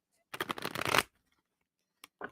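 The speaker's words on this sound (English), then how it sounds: "We are going to shuffle and we are going to pull card number 7." A deck of tarot cards is shuffled in one quick, crisp riffle close up, followed after a pause by a couple of light taps of handled cards.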